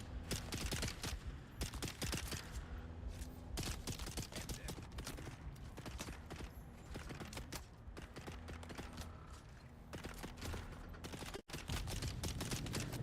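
An NPC fires at close range in Dune: Awakening, sharp gunshots crackling in rapid irregular bursts over a constant vehicle engine drone, with a brief gap before the shooting resumes.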